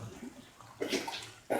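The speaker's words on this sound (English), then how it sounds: "strain any excess water from the pasta" Excess water strained from cooked lentil pasta in a home kitchen, a short rushing pour that swells in bursts, starting soft and surging louder near the end.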